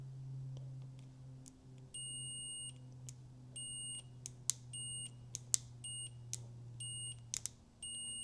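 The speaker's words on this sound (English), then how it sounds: "It's about half a second to bring on the buzzer, which isn't great." A cheap multimeter's continuity buzzer sounds in a series of short, faint beeps with irregular spacing, over a low electrical hum, with no voices.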